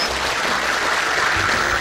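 A studio audience on a Chinese antiques appraisal show claps as guests are sent off, a short burst of dense, even applause lasting about two seconds.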